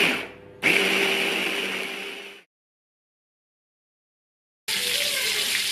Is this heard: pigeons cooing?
no